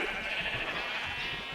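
A sheep in the Minecraft video game gives a sustained, fairly loud bleat, a continuous nasal cry filling the short moment with no talk over it.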